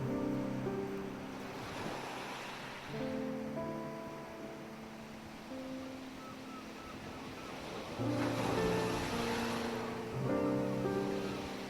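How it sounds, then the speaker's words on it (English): Ocean surf rolls and washes steadily on the beach at Ostia near Rome, swelling louder twice, with a faint tonal hum running underneath. "with the murmur of the waves beside me"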